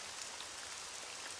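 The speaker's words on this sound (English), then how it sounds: "It's raining." Rain falling in a video game, a dense steady hiss of drops, fairly soft and continuous with no other sounds.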